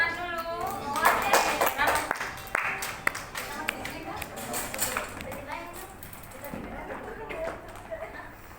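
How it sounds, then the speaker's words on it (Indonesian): Classmates clapping after a class drama performance, scattered sharp claps forming brief bursts of applause mixed with children's chatter and talking throughout. "Tepuk tangan dulu."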